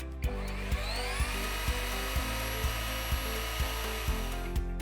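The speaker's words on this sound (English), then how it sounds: "The lock-on feature allows you to run the sander continuously without holding the trigger" Greenworks 24V belt sander running continuously on lock-on, a steady high motor whine with a regular thump from the belt about twice a second, close and unbroken.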